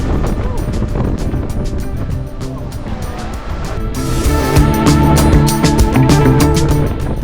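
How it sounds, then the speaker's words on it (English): Strong, gusting Patagonian wind roars and buffets the microphone, rising louder in the second half, with a low continuous rumble throughout. "And it's very windy."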